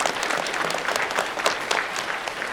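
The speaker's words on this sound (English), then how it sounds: "Give him a bigger round of applause." An audience claps together after a talk at a multiple sclerosis care seminar, a steady, dense burst of applause that fills the room at moderate level with no voices over it.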